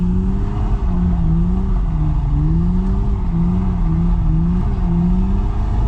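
A Lexus IS200 engine revs hard and loud while street drifting in first and second gear, with a sustained droning roar that rises and dips in pitch as the throttle changes. No one speaks.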